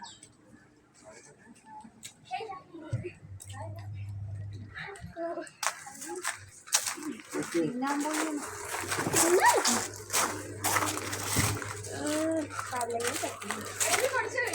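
Water sloshes and splashes in a backyard fish-rearing tank as fish are caught, with irregular splashes rising in the second half beneath lively chatter from children and adults.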